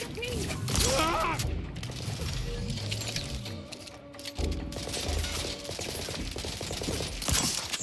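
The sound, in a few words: shotgun fire in the video game The Outer Worlds 2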